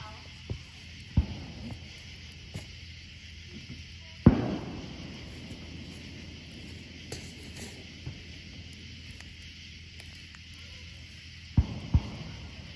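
Distant fireworks pop in scattered single bangs and pairs around a campsite with a canvas tent, each burst followed by rolling echoes over a low, steady background hum.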